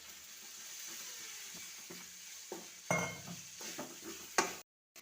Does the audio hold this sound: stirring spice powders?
yes